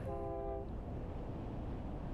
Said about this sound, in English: Goes another train.